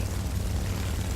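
The propeller engine of a Japanese Zero fighter drones steadily in War Thunder arcade combat, a dense continuous low roar with no voices.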